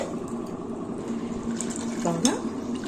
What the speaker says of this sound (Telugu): ఇవన్నీ కలిపేసి వాష్ టూ టైమ్స్ వాష్ చేసి పెడతానండి